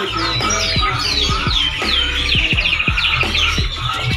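A cucak kumbu songbird at a bird market calls loudly and continuously, with bright repeated chirps and rising whistled phrases over a steady background of other birds.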